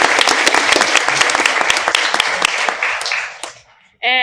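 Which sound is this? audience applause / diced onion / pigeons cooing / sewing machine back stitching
audience applause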